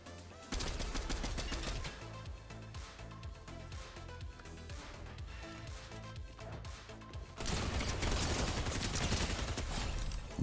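Rapid automatic fire from an MK-7 assault rifle during a Fortnite match, dense bursts of shots over game sound that grow louder and busier toward the end.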